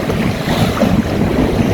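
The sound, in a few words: strong wind and waves while sailing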